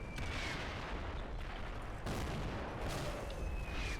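Mortar fire in the Combat Mission war game, a dense rolling barrage of booming impacts and crackling blasts that runs continuously, with a heavier burst near the middle and another toward the end, and no talk.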